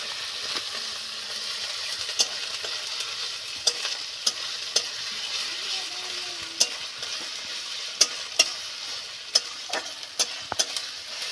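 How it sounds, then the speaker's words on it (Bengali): Onion with ginger and garlic paste fries with a soft, steady sizzle in a pan for meat curry, while a spoon scrapes and stirs in irregular clicks and knocks close by; no talking. "এটাকে একটু ভাজা ভাজা করে নিতে হবে।"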